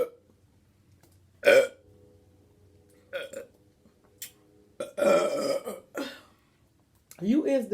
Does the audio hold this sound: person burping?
yes